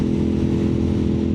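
A fourth-generation Suzuki SV650 motorcycle engine runs with a steady, loud, low throbbing hum, close by and with no talk.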